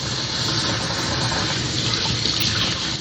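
Tap water runs steadily into a sink while a new tattoo sleeve is washed, a close, continuous splashing hiss with no voices.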